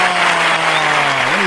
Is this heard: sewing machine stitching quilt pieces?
no